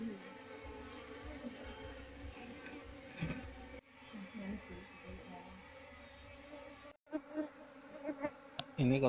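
Colony of Apis cerana honey bees being moved into a hive box, heard as a steady, dense buzzing drone at close range. Brief handling bumps and a clunk interrupt it partway through.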